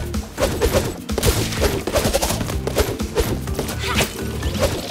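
Rapid volleys of explosions from an enemy bombardment in the video game Crash Team Rumble, dense and loud, with heavy booms and crashes running continuously throughout.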